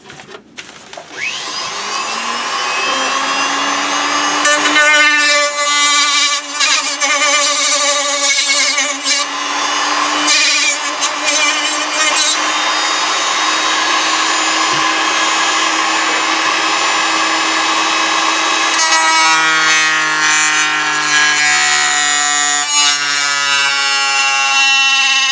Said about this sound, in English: I'm doing that with my cutoff wheel.